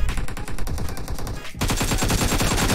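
Rapid automatic gunfire from the video game PUBG, dense bursts of shots filling the clip, with a brief gap before the fire resumes louder and continues without letup.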